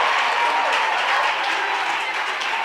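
A church congregation applauds in a sustained wash of clapping, dense and steady throughout, with a slight fade near the end and faint voices mixed into the crowd.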